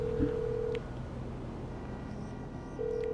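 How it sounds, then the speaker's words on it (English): A phone in GTA Online dials Franklin: a steady dial tone cuts off, a few quick keypad beeps follow, then the tone returns near the end, clear and close with no voices. "you can just phone Franklin from anywhere you are on the map and start it up"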